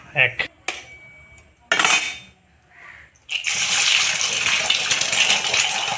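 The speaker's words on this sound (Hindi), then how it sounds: "एक अंडा गया। एक अंडा तोड़ा, अंडा तोड़ा। ये सेकंड नंबर अंडा।" Eggs cracked into a bowl for egg momo filling: sharp taps and clinks against the rim come in short bursts, then a fuller, continuous rustling clatter of bowl and utensil takes over.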